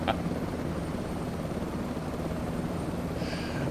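A helicopter in Microsoft Flight Simulator 2024 gives off a steady, unbroken rotor and engine drone on a scenic flight over Puerto Rico, constant in level throughout with no voices.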